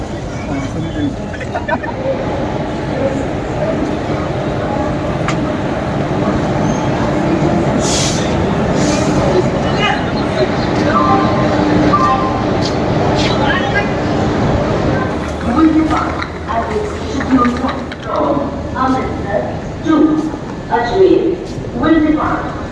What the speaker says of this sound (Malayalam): ഇതാണ് നമ്മുടെ ട്രെയിൻ